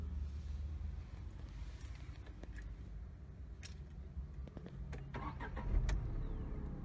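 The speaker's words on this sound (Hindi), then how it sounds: "इंजन चालू हुआ" A Tata Tigor sedan's engine starts after a highway accident, cranking briefly and then settling into a steady idle. The sound is moderately near, with broadband outdoor noise and wind around it and no talking.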